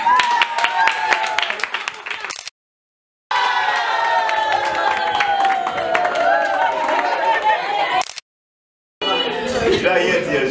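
Audience applause at a World Nurses' Day event, a crowd wash of clapping mixed with cheering and chatter, broken twice by brief dropouts.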